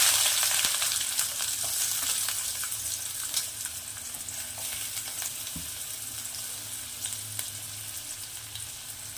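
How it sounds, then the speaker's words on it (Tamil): Mustard seeds and onion fry in oil in a pan for sambar, a soft steady sizzle with faint crackles and occasional stirring clicks, quiet and with no voices. "நான் ஆயில் ஊற்றி கடுகு எல்லாம் பொரிச்சுக்கிறேன்"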